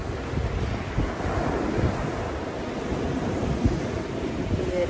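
Ocean surf at a beach in Maui, Hawaii, a steady broadband wash of waves mixed with wind buffeting the microphone, continuous and fairly loud, without talking.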